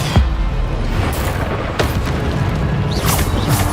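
Bombarda spell explosions in Hogwarts Legacy, sharp booming blasts with crackling bursts at irregular moments amid a dense, busy game soundscape, loud and close.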